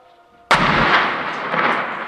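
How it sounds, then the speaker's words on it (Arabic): Heavy rocket artillery shelling in Daraa al-Balad, Syria: one sudden, loud blast after quiet, followed by a sustained rumbling roar and rolling echo that fills the rest of the moment. "قصف عنيف من الفعالية الصاروخية"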